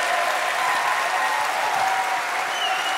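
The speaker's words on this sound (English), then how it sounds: "let's give another round of applause to Hideo Kojima for coming out and doing this whole event" A crowd applauds Hideo Kojima at Gamescom 2014, with steady, dense clapping filling a large hall at an even level throughout.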